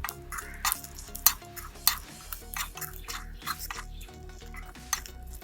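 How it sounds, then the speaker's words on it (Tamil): A spoon stirs salt into a beans and egg poriyal in a pan, with irregular close scraping and clattering over a faint sizzle, no talk. "இந்த டிஷ்ஷுக்கு தேவையான அளவுக்கு உப்பு நம்ம கிண்டி விட்டுக்கலாம்."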